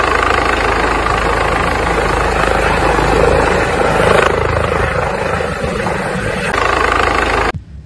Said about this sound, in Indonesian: Di sini ada helikopter.